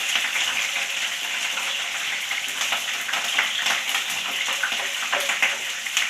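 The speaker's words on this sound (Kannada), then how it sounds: "ಬೆಳ್ಳುಳ್ಳಿ, ಶುಂಠಿ ಮತ್ತು ಹಸಿಮೆಣಸಿನ್ಕಾಯಿ ಸ್ವಲ್ಪ ಹಾಗೆ ಫ್ರೈ ಮಾಡ್ಕೋಬೇಕು." Garlic, ginger and green chillies fry in a pan with a steady, dense hiss and crackle that stays even and close throughout, with no voices.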